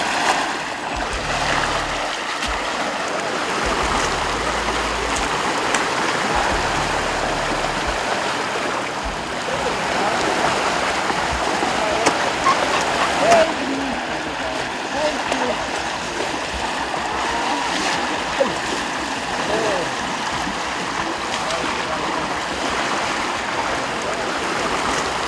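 River water flows in a steady, continuous rush that stays even throughout, with faint low sounds beneath it near the start.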